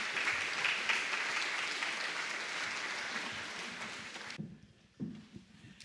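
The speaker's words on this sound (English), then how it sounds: "Let's give a round of applause for Sam Harvey" An audience at a chamber awards ceremony claps in a dense, steady round of applause that fades after about four seconds, leaving a few scattered claps and room noise.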